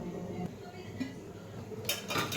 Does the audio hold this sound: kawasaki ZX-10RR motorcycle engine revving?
no